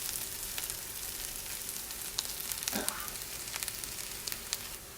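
Vegetables fry in a pan for an Italian frittata, with a steady close sizzle and scattered pops and crackles that continue throughout.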